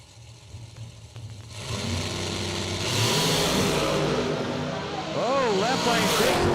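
Big block nitrous-assisted drag race cars at a radial drag racing event, engines rumbling loudly then revving up hard at launch, with rising engine pitch near the end and a voice talking over the roar.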